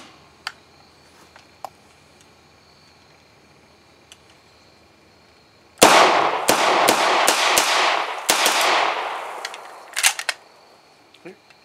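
A POF SMG PK pistol fired at a shooting range: a quick string of about eight sharp, loud shots in a burst, with a few faint clicks before and after.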